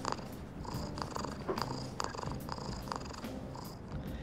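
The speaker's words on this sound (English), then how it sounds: "You get Mona purring." A cat character purring in a PlayStation video game, a soft, continuous rhythmic purr with regular pulses, steady and close with no talking.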